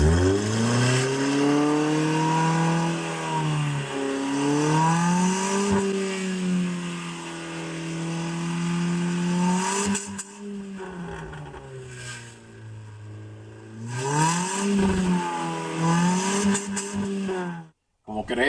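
A car engine with smoke pouring from its exhaust is revved up and down several times at close range, its pitch rising and falling in smooth sweeps before cutting off at the end.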